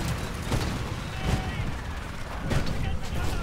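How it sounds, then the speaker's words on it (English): Mortar titans shelling a harvester in the Titanfall video game, dense rumbling blasts and gunfire in a continuous chaotic battle mix with a few sharper impacts standing out. "There's mortar titans shelling the harvester like crazy."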